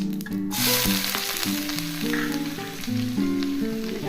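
Dried red chillies, whole cumin and chopped onion crackle in hot oil with a close, bright sizzle that runs continuously beneath melodic background music.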